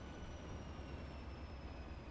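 Diesel train running along a straight section in Transport Fever, a steady droning engine and rolling rumble with a faint high whine, continuous and fairly quiet.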